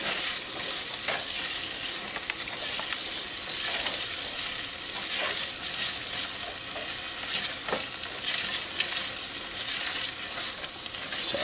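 Onions for a shrimp creole fry in a pan with a steady, fairly loud sizzle, while occasional scraping stirs cut through the hiss.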